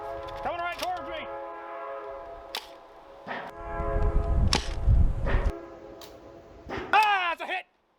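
A train horn sounds repeatedly, loud and near, with rumbling rail noise building as the train passes; the horn blasts return at the end.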